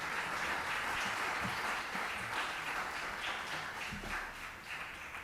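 Audience applause at a press conference for the French film Passion Simple, a steady broad wash of clapping from a room of people lasting several seconds, moderately loud and continuous.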